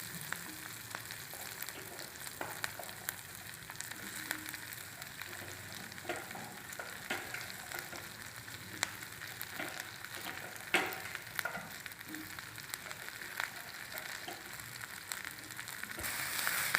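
Green chillies frying and being stirred in a home kitchen pan, a steady low sizzle with scattered crackles and soft scraping stirs running evenly throughout, no voices.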